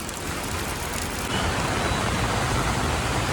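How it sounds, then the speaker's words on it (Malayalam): The Manimala river at Mundakayam, flooded after rain and running just below a bridge with broken railings, roars as a loud, dense, continuous rush close by, with no voices. "അതാ അവിടെ വെള്ളം നല്ലതായിട്ട് ഒഴുകുന്നുണ്ട് കേട്ടോ"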